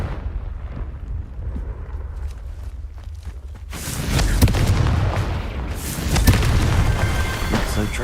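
Confringo blasting spells in the Hogwarts Legacy video game give a heavy low boom, then a louder, brighter burst of blasts and crackling debris with a rumbling tail.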